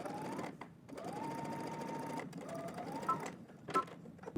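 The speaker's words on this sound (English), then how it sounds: "so I'm going to stitch this so I can see my basting stitch as a guide" A sewing machine runs a basting stitch along fabric for a Simplicity S9758 garment, humming steadily and close by, with a few brief stops and restarts.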